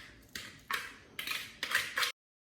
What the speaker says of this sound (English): we're going to take the wet ingredients and fold them into the dry ingredients